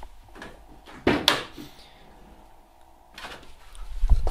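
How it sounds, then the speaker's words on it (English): A car door creaks and thumps as it is pushed a short way, followed by a softer shuffle and a faint knock near the end. "that is as much movement as we can get on the door"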